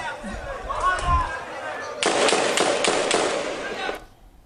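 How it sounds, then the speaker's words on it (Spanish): Several sharp gunshot cracks in quick succession, warning shots fired into the air at a protest, following a stretch of distant voices and crowd noise. "Esos disparos de advertencia los hizo al aire."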